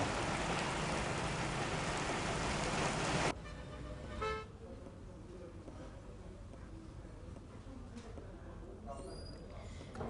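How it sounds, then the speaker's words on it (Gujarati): Heavy monsoon rain pours down in Bardoli and Mandvi, Gujarat, a loud, dense hiss for about three seconds. It then cuts to quieter street ambience with passing vehicles and a brief horn. "બારડોલી અને માંડવી પંથકમાં ધોધમાર વરસાદ ખાબક્યો"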